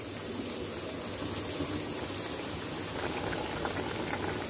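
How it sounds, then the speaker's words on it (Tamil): A drumstick and potato curry boils in an open pot, giving a steady, soft bubbling and simmering that continues evenly throughout, heard alone. "ஓப்பன் பண்ணியாச்சு பாருங்கள் எவ்வளோ தூரம் வெந்திருக்குன்னு பார்க்கலாம்."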